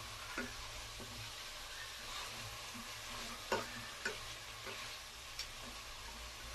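Mutton chops frying in a pan while being stirred, a steady sizzle underneath with irregular clicks and scrapes of a spoon against the pan, plus a low constant hum in the background.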